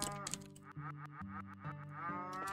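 A cow moos on a farm in the RPG Trails in the Sky, sounding as a long drawn-out lowing call that bends in pitch over quiet game background.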